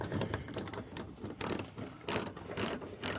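A ratchet with a 10mm socket turns a bolt on the back hatch of a Chevrolet Trailblazer, giving rapid rhythmic clicking in short bursts, close and steady.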